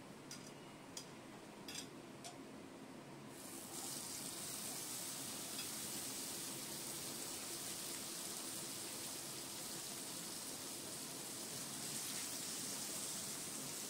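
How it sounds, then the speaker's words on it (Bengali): Shrimp fry in a little oil in a pan, a soft, steady sizzle that thickens into a fuller, louder crackle after the first few seconds and carries on evenly with no talk. "অল্প তেল দিলাম, কারণ অল্প চিংড়ি মাছে তেল না দিলেও চলে, জল বেরিয়ে ভাজা হয়ে যায়।"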